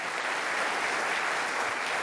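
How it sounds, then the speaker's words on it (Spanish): Church audience applauding, a steady dense wash of many hands clapping at once, sustained and fairly loud throughout with no voices over it. "Alguien tiene que aplaudir más que eso si crees que la esperanza nunca defrauda."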